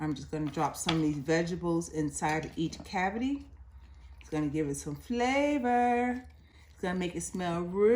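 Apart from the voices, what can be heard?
No everyday noise stands out behind the speech.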